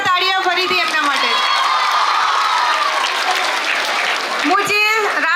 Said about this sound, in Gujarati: જોરદાર તાળીઓ ફરીથી એમના માટે